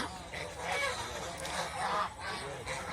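Several farm ducks quacking and honking in overlapping bursts nearby, a noisy, continuous flock chatter.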